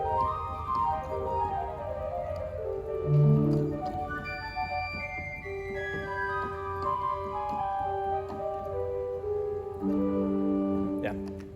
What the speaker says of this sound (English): it's worth showing the flute harmonique by itself.